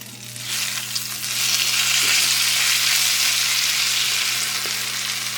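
Chorizo fries in a pan with tomato and onion stirred in, producing a loud, steady close sizzle that swells after the first second and holds with occasional faint utensil taps, alongside a constant low hum.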